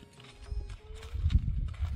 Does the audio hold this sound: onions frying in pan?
no